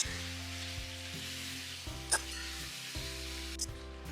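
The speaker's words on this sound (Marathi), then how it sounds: "आता याला मस्तपैकी आपण परतून घेऊया, जेणेकरून हे आले लसूण पेस्ट आणि कांदा आहे तो त्याला चांगल्या प्रकारे लागेल." Chicken sautéing in ginger garlic paste and onion in a pan: a steady, close sizzle and fry hiss throughout, with faint stirring scrapes and a low hum beneath, no talking.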